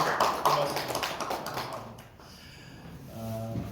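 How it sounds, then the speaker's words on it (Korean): A church congregation claps in thanks during a Sunday service, with a quick flurry of claps that fades out, followed by quieter room sounds and a brief tonal hum. "감사의 박수를 드리겠습니다."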